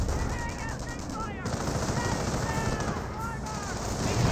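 MG42 machine gun fire rattles through a Company of Heroes 1 match, Wehrmacht against US forces, with rapid continuous bursts and scattered gunfire mixed into dense battle noise.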